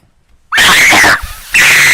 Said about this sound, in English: the speedrunner lets out one final scream